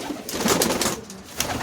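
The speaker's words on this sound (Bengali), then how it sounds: "এই দুটো পায়রা দেখতে পাচ্ছেন, ম্যাড্রাস পায়রা" Two Madras pigeons coo close by in rolling, throaty bursts, with a few light clicks and rustles from the loft mixed in.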